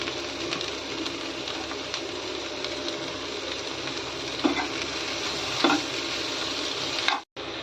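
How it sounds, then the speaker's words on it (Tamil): Cut tomatoes and two green chillies saute in a pan for a Chennai-style fish curry, a continuous close sizzle with a couple of stirring scrapes, ending in a sudden brief cut, no voices. "4 தக்காளியும் போட்டு வதக்கிக்கலாம்."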